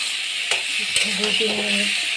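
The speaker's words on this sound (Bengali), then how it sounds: "এখানে বেগুনগুলো দিয়ে দেবো। দিয়ে এবার নাড়তে থাকবো" Eggplant pieces sizzle steadily in a hot pan for a Bengali eggplant-and-hilsa dish, with a few soft stirring scrapes near the start and a voice talking briefly over the frying.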